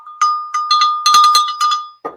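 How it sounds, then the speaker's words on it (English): A loud pink handheld cowbell rung in a series of bright metallic strikes, some single and some in quick pairs, each ringing with a steady sustained tone before fading, close up with no talking. "That's our cowbell. It's got a very nice handle, very loud bell, pink."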